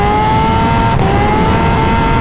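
A 300 whp turbocharged Hayabusa motorcycle spins its rear tire, a loud sustained engine whine and tire squeal holding steady close by with no pauses.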